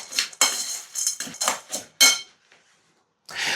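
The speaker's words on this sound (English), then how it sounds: "We're gonna give that a mix." A spoon scrapes and clinks in a bowl as melted butter is stirred into a yellow squash casserole mixture, a series of close, bright mixing strokes followed by a short pause and more clatter.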